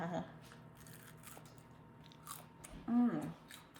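Someone bites into crispy homemade focaccia bread, with a soft crunch early on and a louder, sharper crunch near the end, set against a quiet kitchen background.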